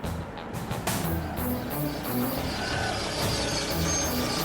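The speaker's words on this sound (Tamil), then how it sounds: "ஏதோ கார் வர மாதிரி இருக்கு." A car approaching on a roadside, heard as a steady, fairly loud engine and road rumble that fills the whole stretch with no clear voices.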